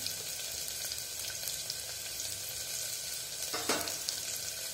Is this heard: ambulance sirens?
no